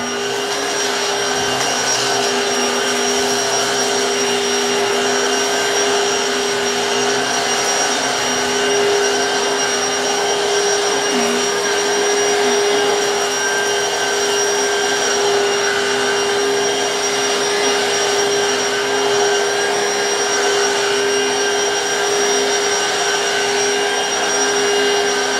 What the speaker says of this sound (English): the Black & Decker did an excellent job at cleaning up